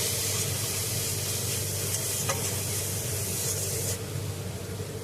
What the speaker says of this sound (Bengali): জিরে গুঁড়ো দিয়ে দেবো, জিরে গুঁড়োটা দিয়ে দিলাম, দিয়ে ভালো করে মশলাটাকে কষিয়ে নেবো